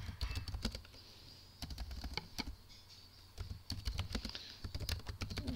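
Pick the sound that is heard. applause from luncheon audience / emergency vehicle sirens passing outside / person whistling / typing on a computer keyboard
typing on a computer keyboard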